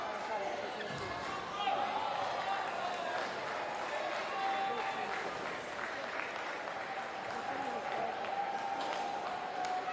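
Brazilian fans in the crowd at a para table tennis doubles match, scattered applause and crowd noise with ball bounces, under commentary.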